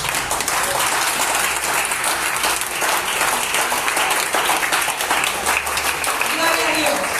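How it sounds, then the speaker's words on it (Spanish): A congregation in a church applauds loudly and steadily, a continuous burst of clapping from many hands with voices calling out over it. "aplaudan al Señor."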